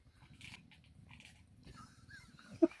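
A dog gnawing on a bone at an off-grid camp in Alaska, making close, soft, irregular crunches and bites with quiet pauses between and one sharp snap near the end.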